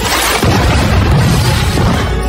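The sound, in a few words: explosion destroying lab and tower in film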